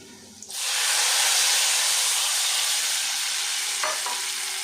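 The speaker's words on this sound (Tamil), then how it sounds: "அப்புறம் இந்த கரைச்சி வச்சுருக்கோம் பார்த்திங்களா அந்த புளியை ஊற்றிடலாம்" Sudden loud sizzle as tamarind water hits a hot pan, settling into a steady hissing fry that continues throughout.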